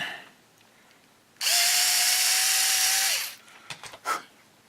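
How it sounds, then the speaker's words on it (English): A small power drill opens up holes in plastic parts of a Phoenix Models Genesis model rocket kit, whining steadily for about two seconds at close range, then a few light clicks and handling taps follow. "we're going to have to drill those out just a tiny bit."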